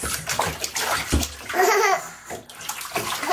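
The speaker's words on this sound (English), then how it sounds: "Splash your face. Splash, Alexander, splash" A small child splashes vigorously in a bathtub, a steady run of close sloshing and slapping water mixed with laughter and a few spoken words.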